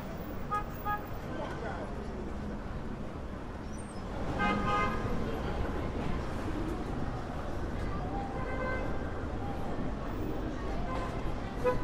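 Street traffic moves along a busy roadway in Jamaica, Queens, New York City, with cars and car service vehicles across the street. Passing engines and road noise form a moderately distant wash, with a few light horn toots.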